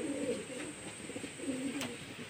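Pigeons coo on a roof in rainy weather, with two soft, low, rolling calls close by over a faint steady hiss and one brief sharp click. No one speaks.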